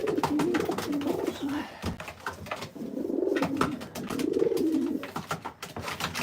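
Pigeons cooing in a loft, steady overlapping low coos with scattered wing flaps and bird calls, close and continuous throughout.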